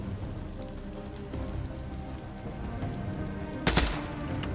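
Gunfire in the PS4 video game Days Gone, a brief loud burst of shots near the end standing out over a steady background of rain-like game ambience.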